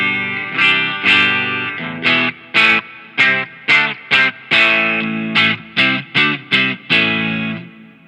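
Guitar played through a Line 6 POD GO opto tremolo preset with reverb and no fuzz, a clean tone strummed in a steady run of distinct chord stabs, each swelling and pulsing with tremolo before a reverb tail, loud and close with no talking.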